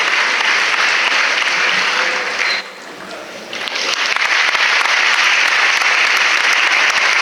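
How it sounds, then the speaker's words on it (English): Audience applause at a school prize distribution ceremony for an inter-school STEM event, loud sustained clapping from a crowd that briefly dips before swelling again. "Kindly encourage him with a round of applause."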